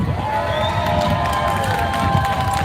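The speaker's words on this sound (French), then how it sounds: "Ah, ils applaudissent les CRS." A street crowd at a yellow-vest protest on Place Wagram in Paris applauds riot police, with steady clapping and crowd noise, scattered shouts and a thin tonal whine running through the roar.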